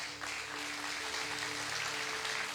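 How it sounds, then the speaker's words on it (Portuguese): A church congregation at a morning family service applauding together in a steady, dense wash of clapping that fills the room, with a faint sustained tone underneath and no speech. "Então dá uma linda salva de palmas para Jesus."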